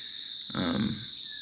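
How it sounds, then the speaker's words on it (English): Cicadas drone steadily at a high pitch throughout, with a brief burst of louder broadband noise in the middle. "now the cicadas come on. So all you're gonna hear is cicada the whole time"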